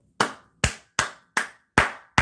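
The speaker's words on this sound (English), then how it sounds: "Y'all clap it up." Six sharp bursts of applause ring out in a steady rhythm for a birthday celebration, each a loud, bright smack of hands that quickly decays before the next one.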